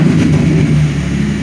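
A 1989 Ford Probe GT engine sounds loud and close with an aggressive, steady mid-pitched drone, a brief rev that holds briefly without talk.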